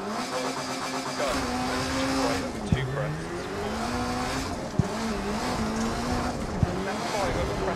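The 480-horsepower Peugeot rally car in Dirt Rally revs hard and close, its engine note climbing and dropping sharply with each quick gear change, and a few short thumps break through.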